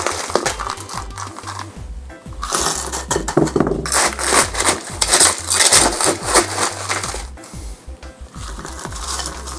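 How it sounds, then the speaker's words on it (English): A blender pulsing ice for a keto tiki Scorpion Bowl cocktail, with loud, dense grinding and crushing in several bursts that fill the clip, steady and close. "we're just gonna pulse it for about 5-10 seconds"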